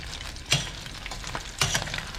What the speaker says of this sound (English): I'm going to transfer all them to the hot oil.